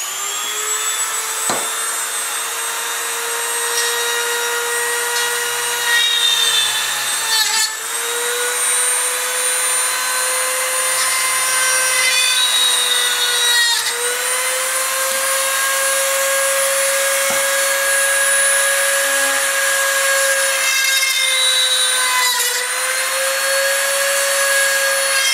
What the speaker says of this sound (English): So instead of using a drill, I'm going to use a Dremel.